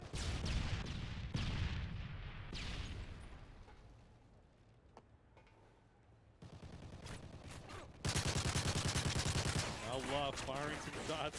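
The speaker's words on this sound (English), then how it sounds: "Love firing some shots over towards the Icon side" Gunfire rattles through a Call of Duty tournament match in loud, sustained bursts that fade briefly in the middle and then return, louder and denser, near the end.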